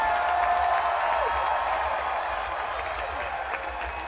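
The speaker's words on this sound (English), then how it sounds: "All those people who have never seen us, applaud them, right? Go crazy" Festival crowd at a Flaming Lips set at Bonnaroo in Manchester, Tennessee, applauding and cheering in a broad, steady wash of clapping heard from within the large outdoor audience, with a faint whistle sliding through.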